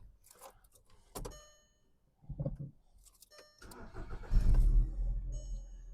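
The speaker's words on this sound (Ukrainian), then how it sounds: "Розглянемо роботу двигуна." Clicks and a jingle of keys, then the 1.6 MPI engine of a 2005 Skoda Octavia A5 cranks and starts, settling into a steady idle rumble close by.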